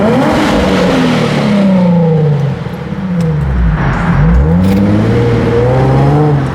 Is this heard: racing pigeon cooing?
no